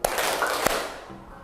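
Students in a classroom clap twice together in a call-and-response clapping game, two crisp claps about half a second apart with some room echo.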